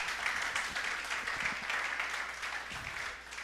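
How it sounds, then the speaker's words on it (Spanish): Scattered, sparse clapping from a church congregation, thin and uneven, a modest ripple of hands that neither swells nor builds over a few seconds. "Los aplausos están quedados hoy"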